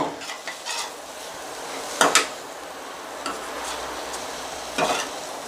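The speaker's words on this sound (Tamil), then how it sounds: "தேங்காய் பூவை திருவி கொட்டி கொஞ்சம் வதக்கி அப்படியே இறக்கிடலாம்" Banana flower fry with grated coconut stirred in a pan, a spoon scraping and clacking against the metal in a few sharp strokes over a soft sizzle, close and fairly quiet with no voices.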